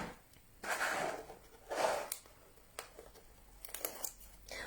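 Cutting and handling a cardboard box made for a chocolate Santa, with a few separate scraping, crinkling cuts and rustles coming in short bursts, close and quiet with no talking.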